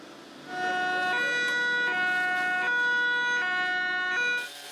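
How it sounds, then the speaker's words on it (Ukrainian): Sirens wail continuously during an international rescue services training exercise in Vinnytsia, their tones rising and falling in overlapping pitches, fairly loud and close, with faint road noise underneath. "Поруч гудуть сирени"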